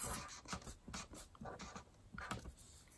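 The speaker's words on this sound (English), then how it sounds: "Or I could even write the word one" Someone writes the words one half by hand during a fractions lesson on halves: quiet, close, scratchy strokes in short repeated bursts, with no voice.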